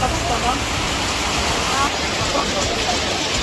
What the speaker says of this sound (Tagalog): Grabe kayo ang ulan guys.